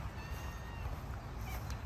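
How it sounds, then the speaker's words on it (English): Pet cats meow for attention, a few faint, short mews rising over low background rumble, heard at a distance. "Our cats are always wanting attention."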